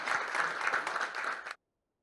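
Attendees at a medical meeting applaud a doctor, a dense burst of clapping that lasts about a second and a half and then cuts off abruptly to silence.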